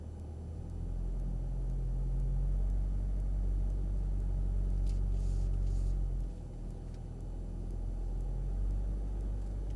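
A Mercedes 4x4 climbs an off-road slope at low power, giving a steady close engine rumble that dips and swells slightly, with no talking.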